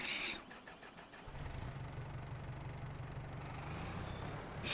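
Tractor engine starting up in Farming Simulator 25, a brief cranking clatter followed by a low, steady idle rumble that settles in and continues at moderate loudness.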